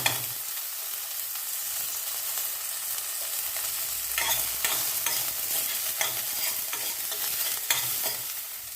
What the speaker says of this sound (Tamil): கடுகு எடுத்தாச்சு வெங்காயம் சேர்த்துக்கணும்